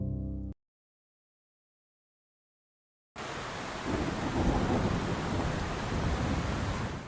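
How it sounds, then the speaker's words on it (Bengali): Heavy pouring rain with thunder: a short burst of other sound and about two and a half seconds of silence, then a loud, dense, continuous roar of downpour with low rumbling that swells slightly and holds steady to the end. "এই মুষলধারে বৃষ্টি প্রকৃতির রূপ কি মনোমুগ্ধকর"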